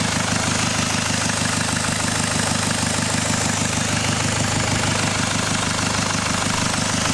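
Jaguar XF engine idling steadily just after starting, a close, even low rumble with a constant mechanical hum and faint high hiss, no voices.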